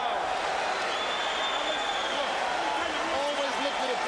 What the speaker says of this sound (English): the big crowd here at Caesars Palace Sports Pavilion saluting these two fighters